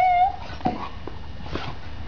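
A dog whimpers at a cat stuck in a bottle, giving a thin high whine at the start and then a few softer yips and whimpers over quiet background noise.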